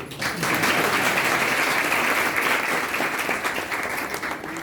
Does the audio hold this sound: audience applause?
yes